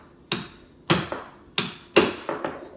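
Five sharp hammer taps on a nail set, sinking trim nails left proud by a weak trim nailer, land in an uneven rhythm, close and fairly loud, each one a crisp metallic strike with a short ring.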